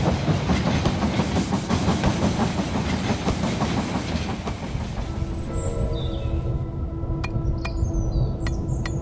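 A train pulls into a station in the strategy video game They Are Billions, its steady rolling clatter filling the first half before easing off, followed by a low hum, faint game chimes and a few sharp clicks near the end.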